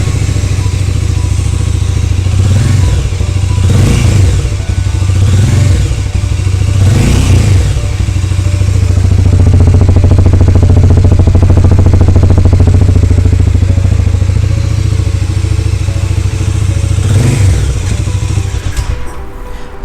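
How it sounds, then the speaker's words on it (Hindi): Loud, close idle of a 2024 Harley-Davidson X440 motorcycle with a deep throbbing exhaust, rising in several revs and settling back over about twenty seconds. "तो इसी बात पे आपको इसका एग्जॉस्ट नोट सुनाते हैं और देखते हैं कि ये"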